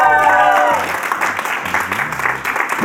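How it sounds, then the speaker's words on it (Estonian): Studio audience claps briefly after a correct answer on the Estonian quiz show Kuldvillak, a short burst of applause mixed with music chords and a little background talk. "Aplaus"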